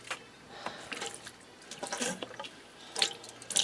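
Water from a Pittsburgh Automotive multi-use transfer pump splashes into a sink in irregular bursts and spurts, with drips and sputtering as air comes through, fairly close and alone.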